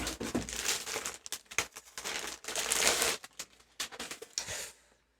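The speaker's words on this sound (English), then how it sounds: "you've got a nice little material bag inside a plastic bag, keeping the laptop safe" Plastic bag crinkling and rustling in irregular bursts while a 2022 MSI Raider GE76 laptop is unboxed, close and fairly quiet, then stopping abruptly near the end.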